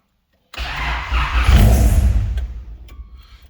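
An all-motor swapped Honda Civic running on E85 fires up after a short crank, the engine catching abruptly and revving loud and rough before settling toward an uneven idle.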